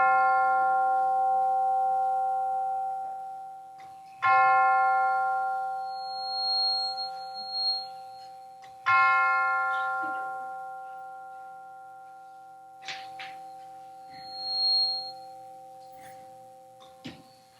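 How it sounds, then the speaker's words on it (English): Bell rung to open a church service, three clear struck tones spaced several seconds apart, each ringing out with a long sustained decay in a quiet room, followed by faint soft rustles and small sounds. "We will now center our hearts and minds with the ringing of the bell."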